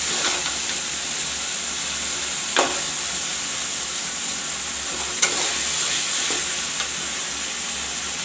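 Masala sizzles steadily in a pan for egg curry, with salt added, while a spoon stirs and scrapes through it in a few distinct strokes over a constant loud hiss.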